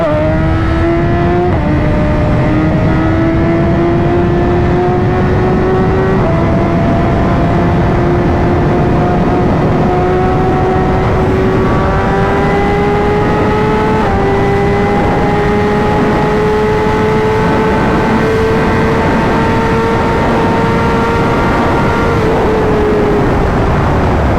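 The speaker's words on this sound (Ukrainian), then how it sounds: "Це просто BMW S1000RR 200 лошадиних сіл." A high-revving BMW S1000RR motorcycle engine screams close up, pitch climbing through several gear shifts with brief drops between them.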